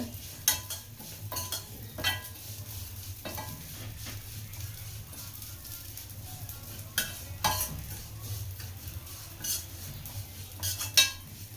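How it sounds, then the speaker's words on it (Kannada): A spoon scrapes and stirs food frying in ghee in a pan, with a soft steady sizzle underneath and occasional louder metallic scrapes and taps, close by and fairly quiet. "ಈ ರೀತಿ ತುಪ್ಪದಲ್ಲಿ ಉರಿಬೇಕು ಚೆನ್ನಾಗಿ ತುಪ್ಪದಲ್ಲಿ ಉರಿಯೋದ್ರಿಂದ ಟೇಸ್ಟು ನಿಮಗೆ ತುಂಬಾ ಚೆನ್ನಾಗಿರುತ್ತೆ"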